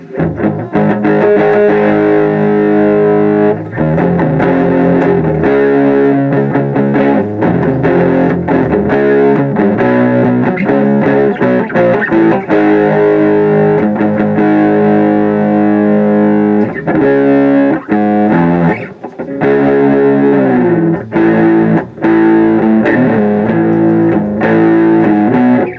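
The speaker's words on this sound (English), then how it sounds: "Just has that right amount of distortion." Loud, heavily distorted Jackson JS32T electric guitar playing chords and riffs continuously, with a crunchy, saturated tone and brief pauses between phrases.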